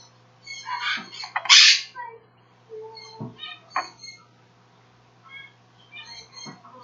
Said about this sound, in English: it would be quite loud in here if we had more than one squawking bird.